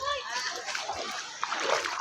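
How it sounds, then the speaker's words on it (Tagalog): Water splashes and sloshes steadily as a child named Max bathes, a bright continuous spatter close by, with voices talking over it. "naligo si Max."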